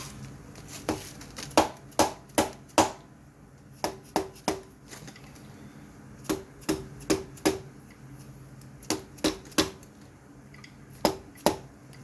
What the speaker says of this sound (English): Let me get a rubber mallet and whack it with.